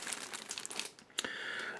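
A plastic bag crinkles close by during the unboxing of an Amazon package holding a camera, a busy rustling that ends in one sharp crackle and a brief smoother hiss.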